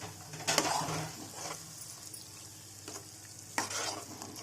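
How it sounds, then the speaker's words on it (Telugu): Yogurt and masala paste stirred in a pan for an arbi (taro root) curry: soft scraping and wet sloshing with a light sizzle, and two sharper utensil knocks against the pan near the start and end. "వేసేలాగా ఇప్పుడు బాగా కలపాలి."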